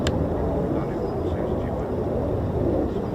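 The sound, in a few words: Boeing KC-135 tanker aircraft flying overhead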